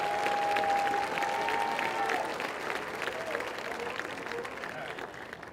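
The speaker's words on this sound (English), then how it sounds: "Let's clap it up for the teachers 6 through 12" At a high school graduation ceremony, a large crowd claps and cheers for the teachers, a broad wash of applause that begins strong and gradually softens, with a voice faintly heard through it.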